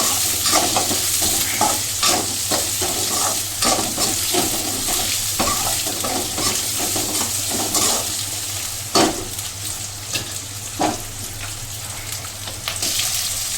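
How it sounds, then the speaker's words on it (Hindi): Onions frying lightly in a pan for chilli paneer, with a steady loud sizzle throughout and frequent close scraping stirs on top, no voices. "प्याज फ्राई कर लेंगे इन्होंने ज़्यादा नहीं फ्राई करने हैं हल्के ही फ्राई करने हैं"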